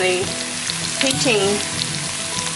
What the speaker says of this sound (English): heating the curry powder in the bit of oil that's in the bottom